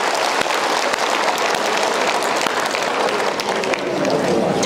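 Church congregation at a Vietnamese Catholic Mass applauding together, a thick, continuous roll of many hands clapping at an even loudness throughout.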